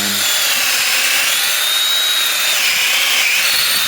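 Power drill boring a tap hole into a tree trunk for maple syrup, tubing on the bit limiting depth; a steady high-pitched whine and grinding runs continuously and loud, close by, with no talking.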